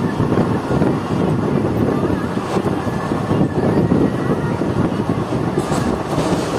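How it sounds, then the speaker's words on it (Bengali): Onboard the Azimganj–Howrah Kaviguru Express at high speed: a constant heavy roar of wheels and wind buffeting the microphone, with faint rhythmic rail clatter throughout and no one speaking. "খুব ভালো স্পিডে ছুটে চলেছে। দেখতে পাচ্ছেন কার্ভ নিচ্ছে আমাদের ট্রেন এখন।"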